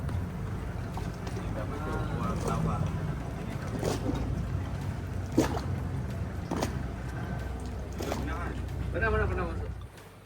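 A boat approaches on the water during island hopping off Langkawi, a low engine rumble and wash droning steadily under people talking nearby, with wind buffeting the microphone.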